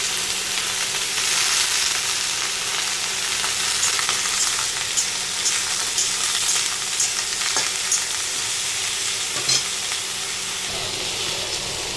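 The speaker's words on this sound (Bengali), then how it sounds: "হালকা ভাজা হয়েছে পেঁয়াজটা, এখন আমি সবজিটা দিয়ে দিলাম।" Chopped onion and vegetables fry in a pan, a loud, even sizzle with occasional stirring clinks and no talking.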